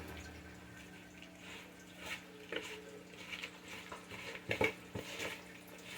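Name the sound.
stirring potting soil in container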